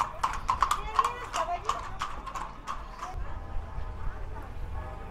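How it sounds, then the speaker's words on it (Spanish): Horses' hooves clip-clop in a quick, steady rhythm on a street in Capilla de Guadalupe, Mexico, close and fairly loud, with voices talking over the first part and a low rumble of town noise underneath. "¡Caballos!"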